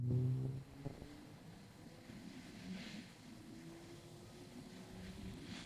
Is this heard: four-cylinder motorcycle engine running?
yes